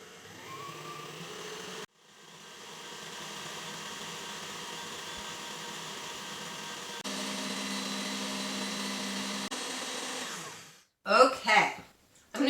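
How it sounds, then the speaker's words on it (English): An electric mixer whips cream into firm, almost butter-stiff peaks, running as a continuous motor whine that stops briefly, restarts and shifts pitch, followed by a couple of sharp clatters at the end. "you're going to whip your whipping cream into very firm peaks until it turns really firm"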